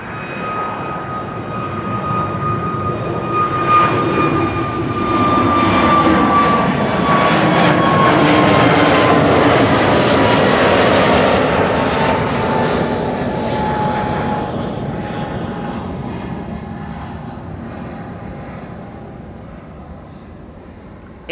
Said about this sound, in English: The wide body taking off from 18 left.